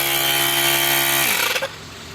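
A 12 V mini electric car tyre air pump runs with a loud, buzzing motor drone for over a second, then switches off and winds down abruptly, leaving quiet room noise.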